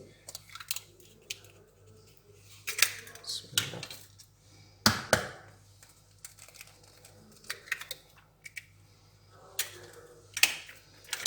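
Donut batter stirred with two eggs in a bowl, a string of close clinks and taps of a utensil against the bowl in irregular bursts, with a low steady hum underneath.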